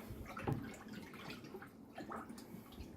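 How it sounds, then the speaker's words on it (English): Homemade dandelion wine is poured from a jug into demijohns, making quiet splashing and gurgling with a few drips that rise and fall, soft and close. "we will get a jug, or 2 jugs rather, and fill the demijohns"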